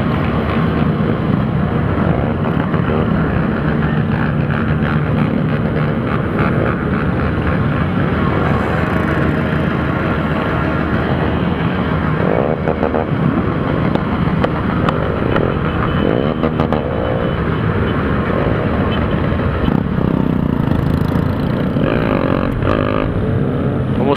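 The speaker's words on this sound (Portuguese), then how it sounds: "Olha o tanto de moto na saída da BR" Large group of motorcycles riding out onto a highway during a group ride, a continuous loud engine roar and wind rush with rising and falling passes, close and steady throughout with no talk.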